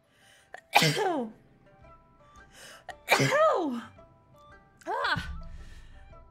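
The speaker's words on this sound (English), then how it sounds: "I was about to thank you, but then I started sneezing" Three loud, sharp sneezes burst out about two seconds apart, each a sudden gasping rush that trails off, with quiet room tone between them.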